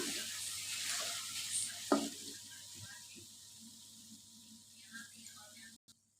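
Mixed vegetable curry with fenugreek leaves fries and sizzles in a pan, a steady hiss with occasional spoon scrapes and clinks as it is stirred, close and continuous before stopping near the end.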